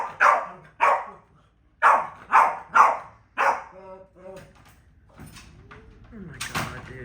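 A dog in its crate barks at a cat perched on top, letting out about six sharp, loud barks in uneven bursts, followed by softer rattling and scraping sounds.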